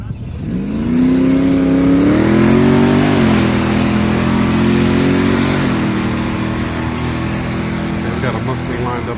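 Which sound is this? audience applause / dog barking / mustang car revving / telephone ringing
mustang car revving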